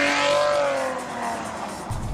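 A 2014 Maserati Ghibli with a turbocharged engine pulls hard, its engine note rising and then easing off in a loud sweep close to the listener.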